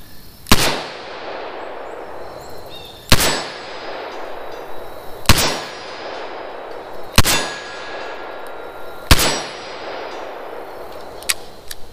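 Five loud revolver shots firing +P rounds, each a sharp crack with a ringing tail, spaced evenly about two seconds apart and heard up close without talking.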